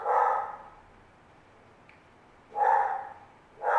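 A dog barks nearby indoors, two or three separate barks, the first and second spaced by a quiet pause and another starting right at the end.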